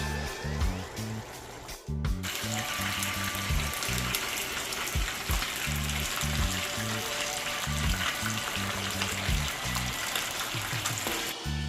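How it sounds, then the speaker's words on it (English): Fish frying in a pan makes a continuous soft sizzle and crackle, heard under a thumping music beat that runs throughout. "over here we have some fry fish frying up nice and lovely"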